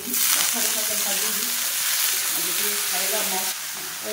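Brinjal (eggplant) frying in a pan gives a steady, close sizzle with scraping and stirring through the whole stretch, and faint voice-like tones sit under it.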